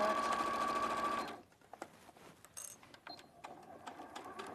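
A sewing machine runs loud and steady for over a second, stitching backward and forward, then stops, leaving faint handling clicks and small taps.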